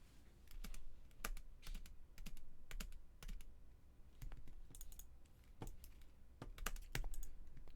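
Keys on a computer keyboard are tapped in quick irregular bursts, with sharp clicks clustered together and short pauses between them, close and fairly quiet with no talking.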